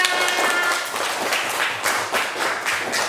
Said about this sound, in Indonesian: beri tepuk tangan dong buat kita semuanya